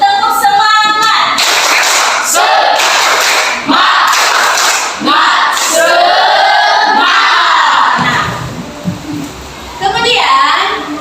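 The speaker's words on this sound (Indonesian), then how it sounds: "Dan tepuk tangan." A classroom full of students claps and shouts together in loud bursts, rhythmic group clapping mixed with cheering and voices, close and boisterous.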